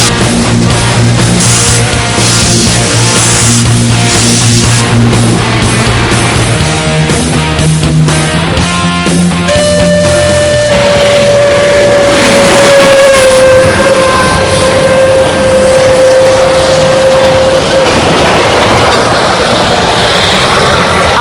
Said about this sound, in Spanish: Cuando esté al par de nosotros tocará el silbato y si todo va bien, percibiremos el efecto Doppler.